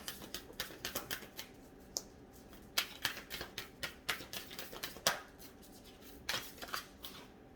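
Oracle cards being shuffled by hand, a quiet run of crisp riffling flicks and slaps in irregular bursts, close and soft, with no talking.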